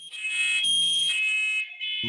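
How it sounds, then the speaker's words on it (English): A high-pitched electronic smoke alarm tone sounds continuously and loudly, wavering slightly, then cuts briefly before resuming near the end. "Smoke alarm?"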